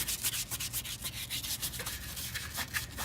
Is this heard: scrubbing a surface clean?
yes